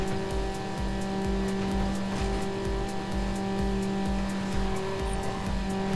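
A race car in Need for Speed Underground holds a steady, loud engine drone with a regular pulsing throb, like a fixed high rev on a straight, with no voices over it.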